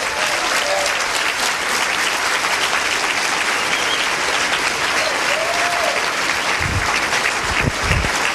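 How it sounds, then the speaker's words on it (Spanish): A church congregation applauds steadily and loudly during a Spanish-language worship service, with dense, sustained clapping throughout. "Dale un fuerte aplauso a Cristo."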